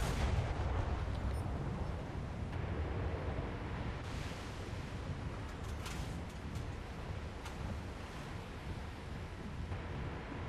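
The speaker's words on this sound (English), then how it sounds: "We'll switch over to the HE shells and do a barrage with those." Naval guns firing a barrage of HE shells in the War Thunder ship battle, dull heavy booms sunk into a constant roar of sea and wind, with no clear separate shots standing out.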